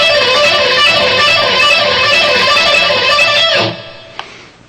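A sped-up electric guitar rock lick from an intense rock sequence lesson, fast bright continuous notes played alone, ending abruptly with a short decaying tail.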